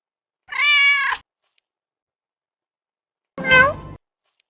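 A domestic cat gives two loud, clear meows separated by a pause of about two seconds, the second one rougher and lower, with no one talking over it.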